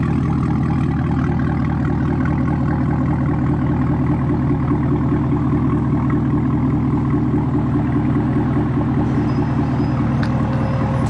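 Chevrolet Camaro ZL1 idling with a new AWE Track Edition exhaust, a loud, deep and steady rumble held close and unbroken throughout.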